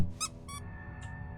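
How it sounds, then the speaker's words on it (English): A clown squeaky hammer in a video game gives two quick rubbery squeaks in close succession, then a fainter third squeak, over a low background hum. "clown squeaky hammer sound there."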